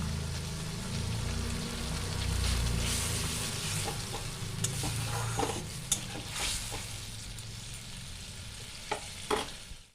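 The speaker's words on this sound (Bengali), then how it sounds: "পোস্ত হালকা করে ভাজা হয়ে গেছে, পোস্ত বেশি ভাজতে হয় না, তাই আমি অল্প করে জল দিয়ে দেবো।" Poppy seeds fry and crackle in a pan for an egg posto dish, with a low steady sizzle and scattered sharp pops and stirring scrapes; a louder hiss builds midway as a little water goes in.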